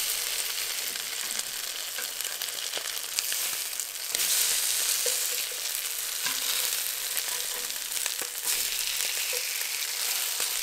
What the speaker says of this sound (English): We got a little olive oil down in the pan and a little mousse fat. We're gonna kind of fry these up.